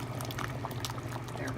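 Strained tomatoes and pizza sauce poured into a hot pot with beans and bacon, a thick continuous glugging and sizzling wash over a low hum, brief and close.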